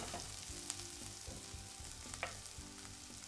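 Onions sizzling in a hot pan after being set back on the heat, a quiet, even frying crackle that runs throughout with a couple of faint utensil taps.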